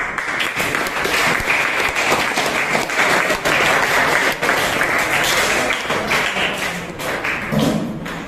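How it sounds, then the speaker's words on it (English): Dense applause and table tapping from a Toastmasters club meeting audience, loud and continuous with thumping taps mixed in, tapering slightly near the end. "That is a grand applause."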